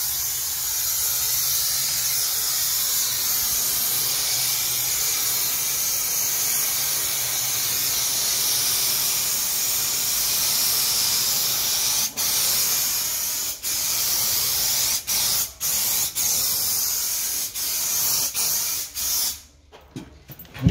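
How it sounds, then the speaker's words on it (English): A paint sprayer lays a Dulux Duramax coat onto a laundry tub, a close continuous spray hiss in long even passes, broken near the end by short stops and restarts. "applied a second coat, just a mist coat of the Duramax, and we're going over it now with a second."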